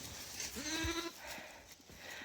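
A goat gives a single short bleat up close, with a dog around on a farm and faint background noise, no clear talk.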